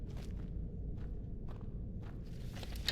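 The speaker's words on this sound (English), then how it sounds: "I hear footsteps." Footsteps in Skyrim thud in a slow, regular walking rhythm, about five soft steps over a low ambient rumble.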